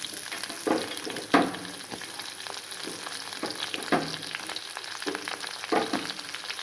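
Onions and masala fry in a pan for egg curry, giving a continuous soft sizzle broken by several scraping stirs at irregular intervals, close and clear with no talking.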